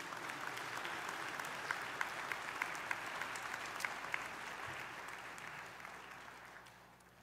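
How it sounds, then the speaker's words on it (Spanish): A church congregation applauds during a sermon, a steady, fairly distant wash of clapping with a few crisp claps poking through, tapering off toward the end. "Denle un aplauso al Señor en esta hora."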